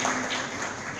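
Audience applause at the opening of a European film festival in Nairobi, a dense steady wash of clapping from a sizeable crowd held at an even level throughout.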